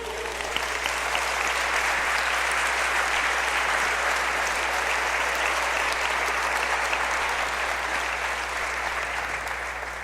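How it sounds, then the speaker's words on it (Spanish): A church congregation claps together in sustained, dense applause, loud and even throughout, with a low steady hum underneath. "Dale un aplauso al Señor"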